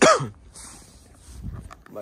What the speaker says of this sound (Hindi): खांसी हो चुकी और अच्छी वो